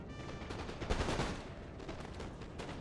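Cannon fire during a battle in Napoleon: Total War, a dense rumbling volley of booming shots that rise to a peak around the middle and then roll on, with no speech.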